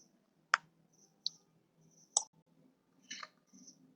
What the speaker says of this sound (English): click on create